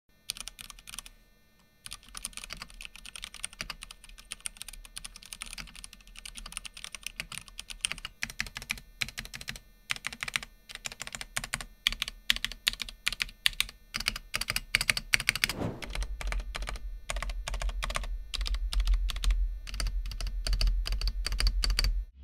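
Rapid typing on a Ducky One 3 Mini Daybreak mechanical keyboard, with dense, steady clacking keystrokes close up throughout; a low rumble joins in toward the end.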